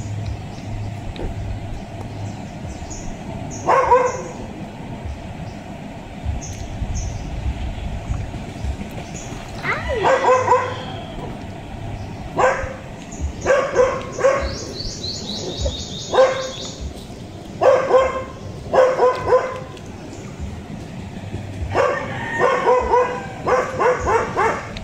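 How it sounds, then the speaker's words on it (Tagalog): Several dogs bark in repeated short bursts outdoors by a river, sharp yelps clustered at intervals over steady background noise, with birds and a low rumble of traffic. "Itong mga asong ito yung maingay."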